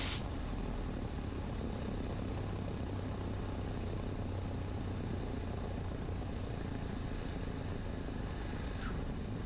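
A Cessna 150 propeller engine idles after landing on a runway, a steady, even drone holding at one level throughout with no talking.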